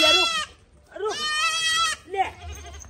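A goat bleats loudly and close up in three wavering calls, two short and one long, with a brief quiet gap between them.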